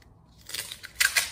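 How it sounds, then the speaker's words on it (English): Masking tape is pulled and torn for marking the front of a 2018-2020 Honda Accord, heard as a few close, crisp crackling rips after a short pause. "I'm just going to use some masking tape."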